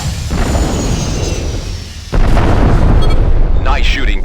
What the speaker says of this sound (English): Destroy Drone 2 using your Rockeye missiles.